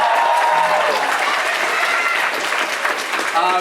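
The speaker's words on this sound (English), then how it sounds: "Yep, round of applause for that." Audience applause and cheering at a campus spring concert, loud and sustained across the whole stretch, with a crowd voice rising over the clapping.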